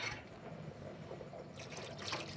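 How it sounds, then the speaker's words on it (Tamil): Water is poured into a pot of village-style brinjal kara kuzhambu, a soft, faint trickle and splash with light gurgling that swells near the end. "இன்னும் கொஞ்சம் தண்ணி ஊற்றிக்கலாம்"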